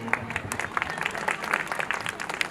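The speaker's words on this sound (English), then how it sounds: "Let's give a big round of applause" An audience at a preschool annual day celebration applauds, a steady wash of many clapping hands with distinct individual claps, moderately loud, with faint voices underneath.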